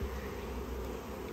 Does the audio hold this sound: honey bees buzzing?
yes